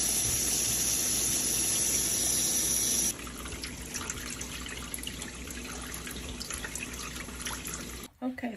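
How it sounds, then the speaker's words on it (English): Tap water runs into a sink while vegetables are washed, a steady splashing hiss that cuts off partway, followed by quieter handling noises and dripping in a home kitchen. "washing the vegetables before I start my meal"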